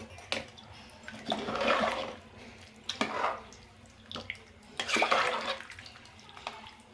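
Water poured from a cup into a pressure cooker holding chicken and rice for biryani, in several separate close gushing pours with short pauses between them.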